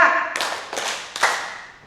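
A group of women in a training session claps on cue in three crisp, evenly spaced unison claps, ringing out loudly right after a brief spoken word.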